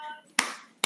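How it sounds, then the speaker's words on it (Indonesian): Schoolchildren clapping in a classroom, a few short bursts of hands heard fairly close after a brief moment of talk. "tepuk tangan untuk kita semua"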